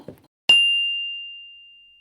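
A single bright notification bell dings once after a brief soft knock, ringing clearly and fading slowly over about a second and a half, alone in silence.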